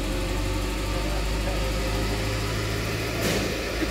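A car fitted with a Toyota K-series engine idles steadily nearby, a continuous low mechanical hum with a faint brief hiss toward the end.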